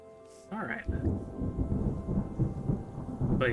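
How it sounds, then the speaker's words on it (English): Deep rolling thunder rumbles on with steady rain in a thunderstorm in the video game Terra Nil, after a short burst of game sounds at the start, continuous and fairly loud. "All the while, we get to listen to this lovely storm."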